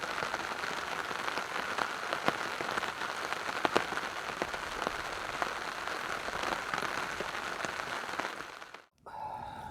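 Steady rain pattering on a surface at an island campsite, with occasional louder drops, continuous and close, briefly cutting out near the end.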